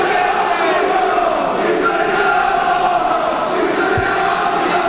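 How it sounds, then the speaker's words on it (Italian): Basketball fans in the stands of a Serie B game in Pavia chant together, a steady loud crowd roar filling the arena throughout with a brief thump near the end. "Tifosi della tribunetta intonano un ci svegliamo sì o no"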